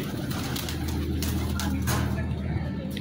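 Pigeons coo in soft, repeated low throaty calls close by, over a steady background hum of traffic.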